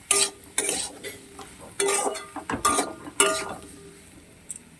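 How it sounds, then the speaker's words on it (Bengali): Food frying in a pan while being stirred, with repeated loud metal scraping strokes of a spatula against the pan in an uneven rhythm over a low sizzle, close by. "দেখো ভালো করে ভাজতে হবে"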